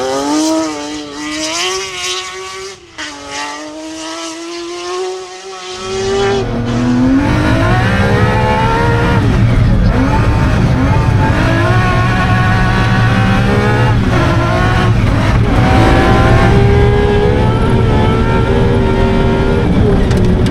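A high-pitched Lancia Stratos rally car engine screams and revs hard, pitch climbing and dropping through gear changes, loud and close, with a second engine roaring in underneath.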